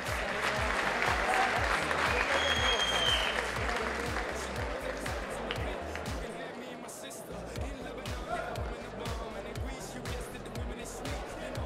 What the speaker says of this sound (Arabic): تصفيق احمد الرباعي.